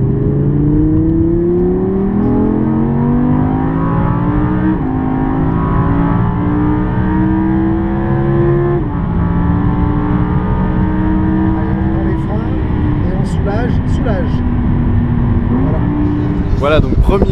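An Audi R8 V10 accelerates around the Paul Ricard circuit, its engine loud and close, climbing through rising revs with brief dips at the gear changes, while a voice talks over the roar.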